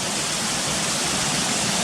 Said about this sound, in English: It's obviously fast coming down here and all these white water rapids going down towards where the bridge is